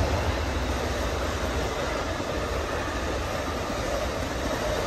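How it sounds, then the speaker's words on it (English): Amtrak Coast Starlight passenger train hauled by a Heritage P42DC locomotive passing close by, a steady loud broadband rumble and rail roar holding constant the whole time with no voices. "All right, folks, here comes train 11, the Coast Starlight."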